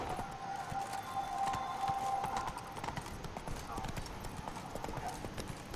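Horse hooves from Witcher 3 Blood and Wine, a steady game clip-clop of a horse trotting, fairly quiet with a tonal music-like hum running beneath.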